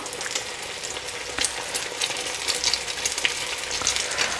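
Aloo keema cutlets, made of minced meat and potato, frying in a pan with a loud, dense, continuous sizzle and spitting oil crackles throughout.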